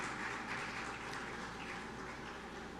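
Audience applause for Dr. Claire Grant, President of the Caribbean Broadcasting Union, at the opening ceremony of its 54th Annual General Assembly: steady, dense clapping from a crowd that holds at an even level throughout.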